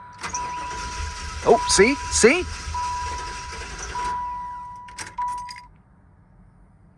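A Buick Roadmaster wagon engine cranking without catching, the starter whirring briefly after keys jangle, with electronic chimes and a short spoken remark.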